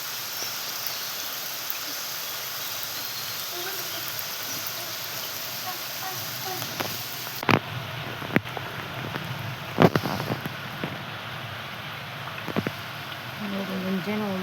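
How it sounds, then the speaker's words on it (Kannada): Rain falls steadily near a temple, making a constant broadband hiss. About halfway through, several sharp knocks and thumps break in, followed by faint murmuring. "ಇನ್ನೂ ಹಂಗೆ ಮಳೆ ಬರ್ಲಾತೈತಿ."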